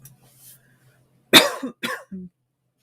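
Two or three close, sharp coughs in quick succession after a near-silent stretch, followed by a short throat-clearing sound.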